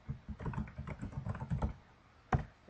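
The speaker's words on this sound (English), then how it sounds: "then we type in your name, so it's just your name." A name being typed on a computer keyboard in a close, continuous patter of keystrokes, briefly pausing before one louder final keypress.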